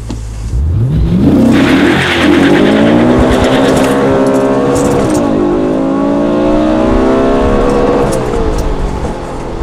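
An Audi RS4 B7 with a high-mileage V8 launches hard from a standstill, its engine note climbing loud and close through several gear changes with brief dips between rising sweeps.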